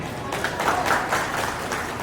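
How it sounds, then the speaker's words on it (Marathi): Applause from an audience welcoming dignitaries at a golden jubilee function. It is a steady, dense wash of clapping that holds for the whole two seconds, fairly loud and close, with a faint murmur of voices mixed in. "सर्वांनी त्यांना टाळ्या वाजवून स्वागत करायला पाहिजे"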